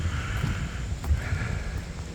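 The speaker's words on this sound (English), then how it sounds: "Of course it's windy." Outdoor wind rumbles against the microphone as a steady, low buffeting hiss while a small van is being painted and tinted, with no voices over it.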